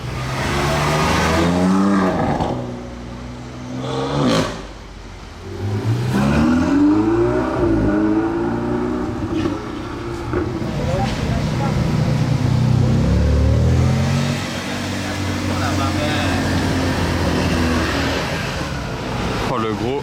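A Bugatti Divo supercar engine revs hard on a Monaco street, loud and close, with rising and falling howling sweeps and a roaring pass, while someone talks over it.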